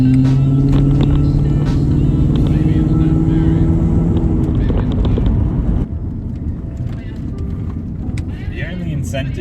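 A Toyota Soarer / Lexus SC400 V8 engine drones steadily while driving, loud and close from the cabin, with a sustained low hum that eases off partway through and continues at lower volume; a voice talks over it.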